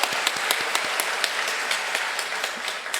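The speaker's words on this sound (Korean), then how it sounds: "감사의 큰 박수를 부탁드립니다" Congregants at a Korean church morning worship service applaud, a steady patter of many hands with a few sharp individual claps standing out, moderately quiet and heard without speech.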